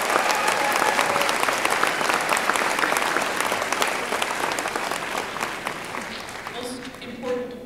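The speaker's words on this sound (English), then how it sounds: "please give the parents, families, and friends gathered here today a round of applause." A large commencement audience at the University of Wisconsin-Parkside spring 2012 ceremony applauds loudly and steadily in a reverberant hall, the clapping thinning slightly toward the end as a few voices rise.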